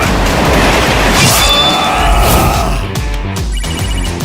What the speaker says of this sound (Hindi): आर्यन, माइक के फोन से कोई कॉल कर रहा है।